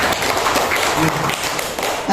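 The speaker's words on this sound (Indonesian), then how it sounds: "coba kita tepuk tangan untuk kita semuanya dulu" An indoor audience of teachers at a school workshop on positive culture claps together, a steady dense patter of hands lasting about two seconds without pause.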